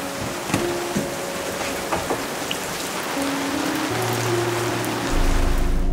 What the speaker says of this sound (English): let's just wait until the rain passes